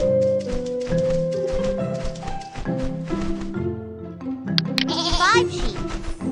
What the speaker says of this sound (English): Sometimes I like to count sheep to help me fall asleep.